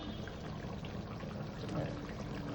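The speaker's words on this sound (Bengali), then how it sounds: "দেখো ঘিও দিয়ে দিচ্ছি" Ghee poured from a container into a jackfruit curry cooking in a pan, a soft, faint liquid pour over a low steady background hiss, quiet and brief.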